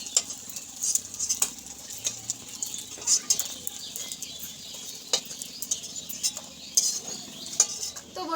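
Pumpkin flower fritters with rice batter frying in hot oil, giving a steady sizzle with scattered clinks and stirring sounds throughout, no talking.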